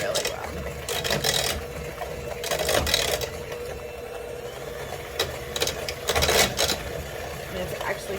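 Electric beaters whir through brownie batter with egg in a bowl, a continuous buzzing drone that swells in a few bursts as the mixer works, with a voice talking over it.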